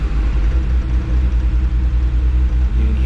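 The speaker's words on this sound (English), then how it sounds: "you can hear it when I'm hitting full throttle" A BMW E30 engine running rough under full throttle, a loud, steady low rumble with a faint uneven pulsing throb and no talk over it.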